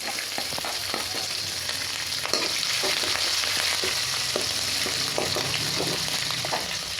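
Chopped ginger and green chillies frying in a pan with peanuts in oil for a sago breakfast dish, a loud continuous sizzle with intermittent stirring clicks and scrapes, no voices.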